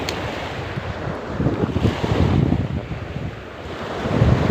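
Rough surf rolling onto a shore while squid fishing, whipped by strong gusting wind that roars steadily across the microphone with no voices.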